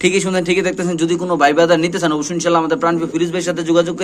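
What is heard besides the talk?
pigeons cooing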